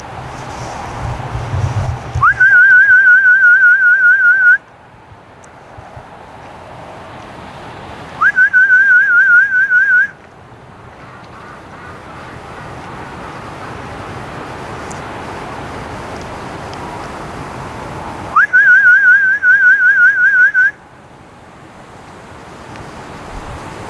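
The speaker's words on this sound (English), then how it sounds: "I'm going to put the camera down and do some two-finger whistling here to get the volume up" Loud two-finger whistling outdoors by a lake sounds three times as long, steady shrill tones to call ducks. Each lasts about two seconds and opens with a rising swoop, with wind rumbling and buffeting the microphone in between.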